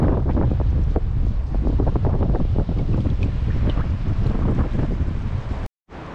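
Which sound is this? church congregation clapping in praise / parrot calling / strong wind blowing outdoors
strong wind blowing outdoors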